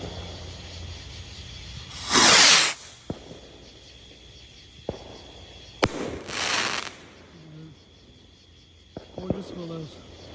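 Mega Willow 2-inch rockets launching with sharp whooshes and bursting into loud crackling booms, two big bursts followed by scattered pops and faint crackle fading in the open air.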